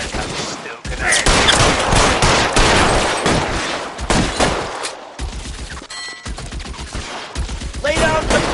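Gunfire in the video game L.A. Noire, dense bursts of shots in a continuous firefight, loud and sustained with brief gaps, metallic pings near the end.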